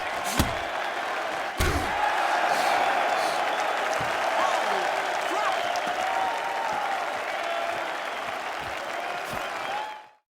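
A boxing crowd in a film roars and applauds throughout a fight scene, dense continuous cheering and clapping with a couple of sharp thuds near the start, fading out abruptly at the end.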